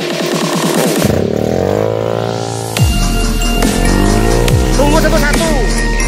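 Trail motorcycle engines revving on throttle during an off-road group ride, a loud close roar with pitch sweeping up and down and a sharp blip midway, engine noise filling the whole stretch.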